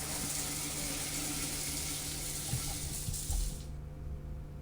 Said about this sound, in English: I'm gonna jump in the shower. Let's take a shower.